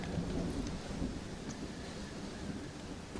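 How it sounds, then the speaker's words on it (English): Thunderstorm in Red Dead Redemption Undead Nightmare, a steady rumbling roar of rain and low distant thunder, broad and continuous at a moderate level throughout. "Well, it's just the storm,"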